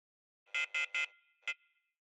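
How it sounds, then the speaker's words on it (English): An orange thruster warning tone from the Starfield space game interface: three harsh, abrupt buzzy beeps in quick succession, then a pause and a fourth, clean and isolated against silence. "For the orange thruster warning, I used a harsh, abrupt tone."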